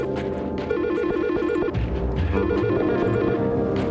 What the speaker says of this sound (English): your phone will keep ringing until you hang it up personally